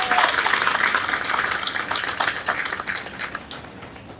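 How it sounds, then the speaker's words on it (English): Audience applause for a cricket team at a Princess Margaret Cancer Foundation street cricket event, a burst of dense clapping that thins into scattered individual claps as it fades out. "A round of applause for our team once again."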